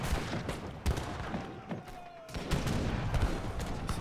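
Heavy cannons firing in the game Age of Empires III, a run of sharp booming blasts and thuds in quick irregular succession over constant battle noise.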